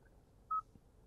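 A single short dialing beep from the phone system of a 2022 Kia Carnival's infotainment screen, faint and clean against quiet cabin background.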